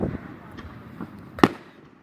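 Fireworks go off outdoors in scattered faint, distant pops, followed by one sharper, louder bang near the end.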